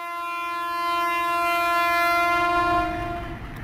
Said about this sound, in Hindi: डिपार्चर स्टार्ट हो गया मलकवाल जंक्शन से 10:56 पे।